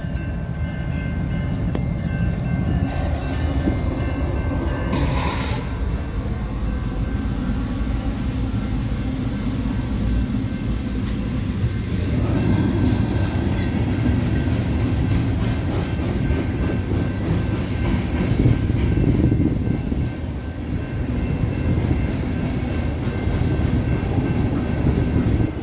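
A CSX manifest freight train rolls past close by, a steady heavy rumble of cars and wheels that holds for the whole stretch, with brief higher squeals early on and a swell in loudness toward the end.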